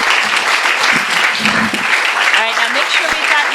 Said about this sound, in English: Let's please give him a warm round of applause.